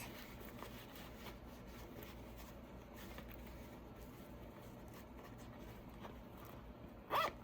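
A small fabric zippered pouch is turned right side out and its corners poked out, giving soft rustling and scraping handling noises, quiet and close, ending in a brief louder zipper-like rasp.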